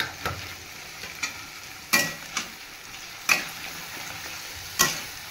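A fish curry masala with green chillies sizzles in a pan, broken by a series of sharp spatula scrapes and taps, about seven of them, spaced irregularly over a low frying hiss.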